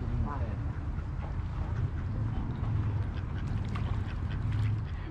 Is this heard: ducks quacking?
yes